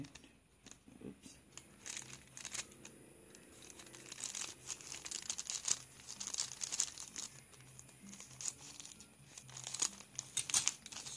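A mail packet is cut open and unwrapped up close, with repeated crinkling and tearing of plastic packaging in quick irregular bursts and a few sharper crackles.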